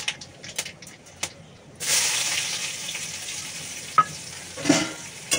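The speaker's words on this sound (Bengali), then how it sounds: "পেঁয়াজটা ভাজা ভাজা হয়ে গেছে, এবার আমি শাক দিয়ে দেবো।" Onion frying in hot oil in a kadai with a dried red chilli and nigella seeds, a steady close sizzle that swells midway, with occasional stirring clinks and brief bursts of spitting.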